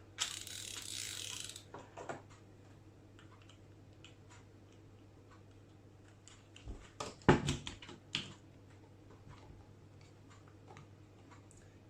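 A spool is pushed onto a fixed spool fishing reel, giving sparse small clicks and ticks, then a short cluster of louder mechanical clacks near the middle. Little else is heard and nobody speaks.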